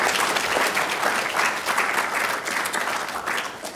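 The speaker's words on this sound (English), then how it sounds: "give a big round of applause for our speakers" A seated audience gives its speakers a big round of applause at the close of a talk event, and the dense, even clapping holds loud and steady for almost four seconds before easing slightly at the end.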